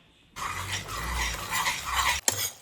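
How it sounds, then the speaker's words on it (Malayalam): Puliyanchi, a thick tamarind-ginger relish, is stirred in a pot as it boils down, with a steady low bubbling and a scraping spoon running for about two seconds before a sharp clink near the end. "എന്നിട്ട് നന്നായിട്ടങ്ങ് ഇളക്കിയെടുക്കാം"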